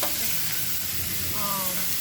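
Steady, loud sizzle of shrimp and pork frying in a hot pan at a camp, with faint stirring scrapes underneath and no talking.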